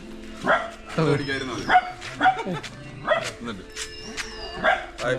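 A dog barks repeatedly at close range, sharp yips and bow-wows coming every second or so, with people talking over and between the barks.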